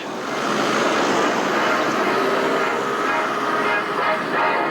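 A four-engine American long-range bomber flies past at the 1988 Biggin Hill Airshow, a loud, steady broadband piston-engine roar that holds throughout without a break.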